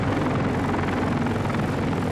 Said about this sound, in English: By late afternoon, the chopper flow at the embassy really started.